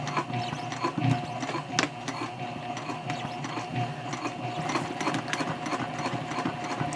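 Sewing machine back stitching a handbag strap, a close, steady mechanical chatter of rapid needle strokes with rattling clicks running continuously throughout, with no talk.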